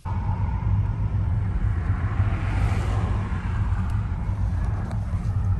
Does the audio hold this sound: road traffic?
yes